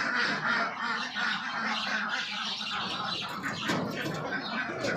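A flock of domestic ducks quacks and squawks continuously close by, in a dense and busy chorus with no talking over it.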